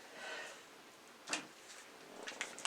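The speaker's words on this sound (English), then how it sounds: "A couple of those doors are a little loose, as you can tell." Loose cupboard doors are pushed shut with a quiet knock, then a cluster of small clattering taps a second later in a quiet room.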